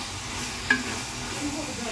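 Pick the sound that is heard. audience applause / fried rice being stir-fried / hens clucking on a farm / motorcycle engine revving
fried rice being stir-fried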